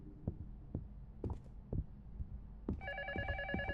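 In the Luto horror game, a telephone starts ringing with a bright electronic trill after a series of low, spaced thumps like heavy footsteps or heartbeats, heard clearly and alone.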